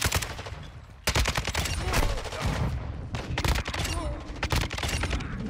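Rapid automatic fire from a Kastov 762 rifle in Modern Warfare 2, loud, dense bursts with near-constant shots running the whole stretch amid other battle noise, with no talk.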